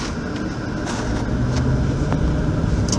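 Infiniti M56 pulls away under acceleration, its engine a steady, loud cabin drone, low and rumbling, holding one gear without a shift.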